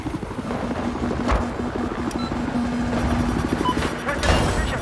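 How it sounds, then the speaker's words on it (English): An enemy helicopter in the video game Battlefield 4 drones steadily through a busy battlefield, its rotor hum mixed with scattered gunfire and a few thumping impacts. "West of your position, there's an enemy helicopter."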